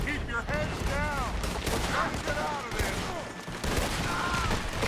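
Rifle fire and a sustained volley of gunshots in Red Dead Redemption 2, loud and continuous with layered game sounds and voices throughout.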